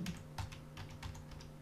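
Keys clatter on a computer keyboard in a quick burst of a few strokes, close and fairly quiet, with no talking over them.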